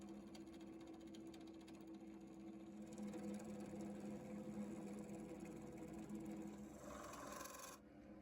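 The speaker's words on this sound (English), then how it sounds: "I just bought this lathe here for this project, and that's the first time I'm using it" A newly bought lathe turning wood for a mosquito-in-amber cane, with a chisel scraping the spinning piece in a faint, continuous rasping hum that grows a little rougher partway through and cuts off near the end.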